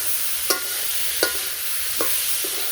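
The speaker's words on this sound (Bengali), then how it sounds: "চিচিঙ্গাগুলো ভালো করে ভাজি করার পরে কিন্তু আমি একটা ডিম দিয়ে দেবো" Ridge gourd, or chichinga, frying in a pan in a village kitchen, with a steady hiss and three evenly spaced scraping stirs of a spatula, close up and alone.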